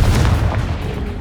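A short, punchy Confringo spell blast from Hogwarts Legacy hits with a loud, close boom that quickly fades into a rumbling tail.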